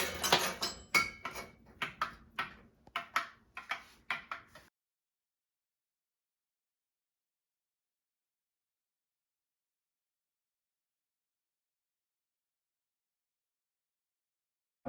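Salt and olive oil stirred together in a bowl, a quick run of spoon clinks and scrapes for a few seconds, close and distinct, then silence.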